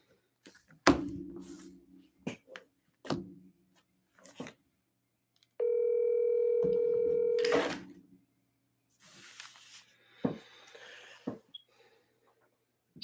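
A telephone gives a steady, clear tone lasting about two seconds while a phone call is being placed, set among scattered faint knocks, handling noises and short rustles in a quiet room.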